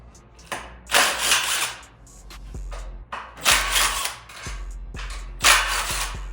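Bolts come out of the timing cover on a Mercedes M113 engine during a teardown. Several bursts of quick ratcheting clicks, each a second or so long, alternate with short pauses and light metallic knocks. All of it is close, with no talking.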